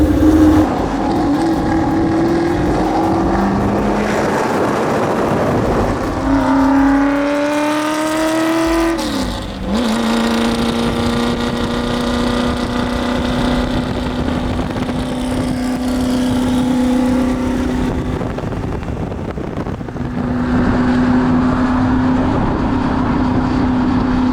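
A Ford Shelby GT350 engine revs loudly on a canyon drive, a sustained close roar that climbs through rising pitch sweeps, dips briefly with a gear change, then settles into a steady high drone and surges again.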